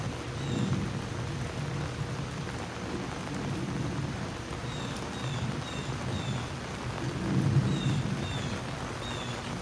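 Steady rain pours down outdoors behind a house, with soft low rumbles of thunder rolling in now and then; a continuous, moderately distant downpour with no voices.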